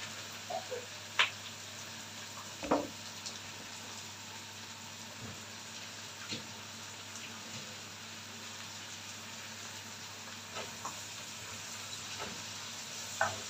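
Onions and other ingredients for an okra tagine are stirred together in a pan, giving faint scattered clicks and scrapes of the utensil over a low, steady sizzle.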